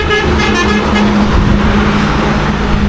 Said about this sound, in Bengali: হর্ন দিয়ে দিয়েছে